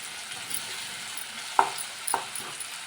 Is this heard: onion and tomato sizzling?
yes